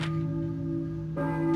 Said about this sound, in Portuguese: Um tempão que o sino tá tocando e só agora que ele conseguiu ouvir